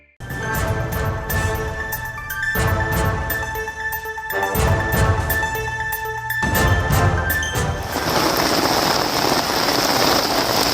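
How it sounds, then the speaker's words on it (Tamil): Heavy rain pours down in Ooty in the Nilgiris, a loud, dense, continuous roar of water hitting surfaces, steady throughout and growing hissier toward the end. "நீலகிரி மாவட்டம் உதகையில் கனமழை கொட்டி தீர்த்து வருகிறது."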